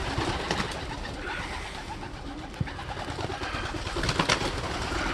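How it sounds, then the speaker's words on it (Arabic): Ornamental pigeons or doves coo in a snowy outdoor setting, soft repeated calls sounding close over a steady background wash, with no talking. "هاي الطيور الزينة"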